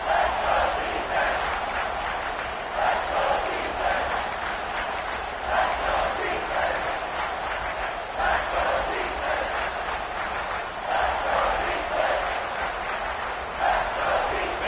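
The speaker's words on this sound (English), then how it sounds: "the crowd really getting into it" A crowd in the football stands at the Rose Bowl, Oregon against Alabama, roars steadily for the whole stretch, a broad, distant wash of voices with swelling peaks and no break.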